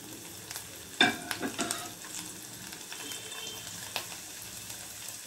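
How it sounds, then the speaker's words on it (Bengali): Garlic drops into hot oil while cooking bata fish with kasuri methi, a quiet, steady sizzle with a few sharp clatters and stirring taps near the start. "এবারে প্রথমেই আমি দেব রসুন।"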